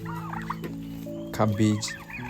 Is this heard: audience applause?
no